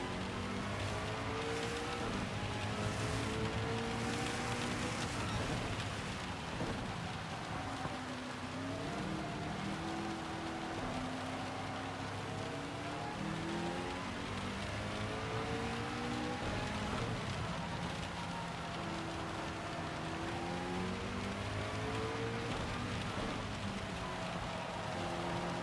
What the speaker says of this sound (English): And the rain is coming down again.